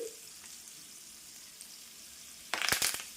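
Curry leaves hit hot oil after the stove is switched off, bursting into a short loud sizzle and crackle near the end after a quiet hiss, close by and with no voices.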